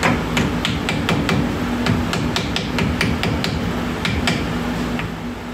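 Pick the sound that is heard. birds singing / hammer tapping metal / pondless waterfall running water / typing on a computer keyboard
hammer tapping metal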